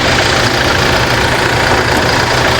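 Toyota Fortuner's 2.8-litre 1GD diesel, rated at 204 horsepower, idling under an open hood, giving a steady, loud, close rumble with no variation or voices.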